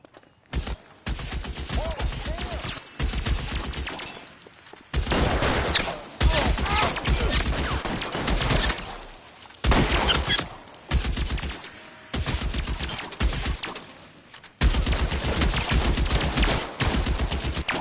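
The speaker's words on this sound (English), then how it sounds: "Open fire!" Gunfire in a street shootout in L.A. Noire, loud bursts of rapid shots in repeated volleys separated by short pauses, some lone cracks between, no talk heard.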